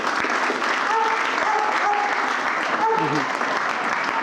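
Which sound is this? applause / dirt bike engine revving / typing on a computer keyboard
applause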